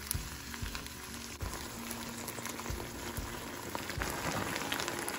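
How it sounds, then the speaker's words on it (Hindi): Vegetables with salt sautéing in a pan for homemade tomato soup, a steady close sizzle and crackle with soft stirring knocks throughout, no talking. "फिर इसको अच्छे से भून लेंगे।"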